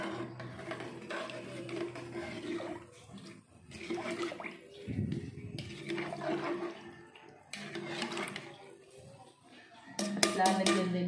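Chicken sinigang with ginger is stirred in a pot, with wet sloshing and soft clinks of the utensil against the metal in uneven bursts, and a louder clatter near the end.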